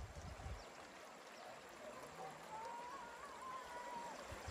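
A rural mountain stream flows steadily in the background with a continuous soft wash of water, faint overall, with a brief low thump at the start.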